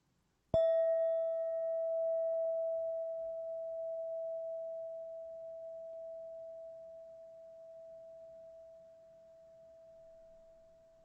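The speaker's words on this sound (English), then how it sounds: "I'll ring a bell and we'll practice." A meditation bell is struck once and rings out with a pure, steady tone that sustains and slowly fades over about ten seconds, alone in a quiet room.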